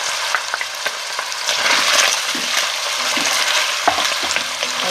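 Sausages fry in a pan as a garlic and ginger mixture goes in for rougail saucisses, a bright steady sizzle with occasional spoon scrapes and clicks, close and fairly loud.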